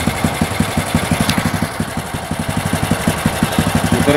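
A standard-carburetor motorcycle engine runs at a fast idle with a steady, rapid pulsing beat while the carburetor air screw is being adjusted, loud and close with no talk.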